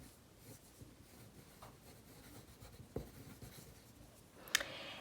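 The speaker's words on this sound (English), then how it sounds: "And here I'm going to draw the neck" Pencil drawing a fashion illustration on paper, soft close scratching strokes with a few sharper taps and a brief louder scrape near the end, faint and continuous with no talking.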